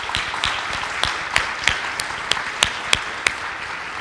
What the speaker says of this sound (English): Can you just give them a round of applause as they do?